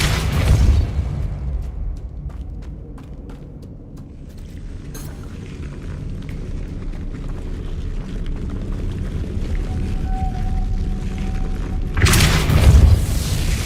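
The Depulso spell cast in Hogwarts Legacy lands as a heavy boom at the start and another near the end, with scattered light clicks and a faint tone in the quieter stretch between.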